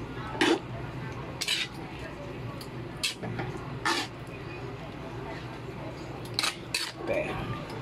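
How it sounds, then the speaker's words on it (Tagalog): A metal spoon stirs pork liver egado with oyster sauce in a cooking pot, sharp clinks and scrapes landing at irregular intervals against a low kitchen background. "Haluin natin."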